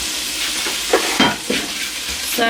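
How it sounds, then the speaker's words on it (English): Broccoli goes into a hot pan for a broccoli and prosciutto pasta dish, a soft sizzle under a few scraping stirs and light clatters, close and alone without speech. "So I'm just going to add in my broccoli now."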